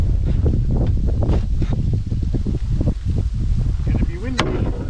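Strong wind off a lake channel in Saskatchewan's McLennan Lakes buffets the microphone in a continuous low roar while a person talks over it.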